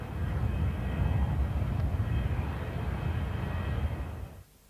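A Harrier jump jet flying a display at an air show over Auckland International Airport in 1992, a loud, steady jet roar that holds throughout and drops away abruptly at the end.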